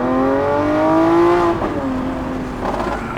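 A Lamborghini Aventador Ultimae's V12 engine revs up loudly under acceleration while driving, rising in pitch, then drops briefly as it shifts before pulling again, close and with no talking.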